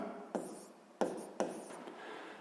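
A pen scratches across paper, writing out physics problem values in a few short strokes with small taps between them, close and quiet with no talk.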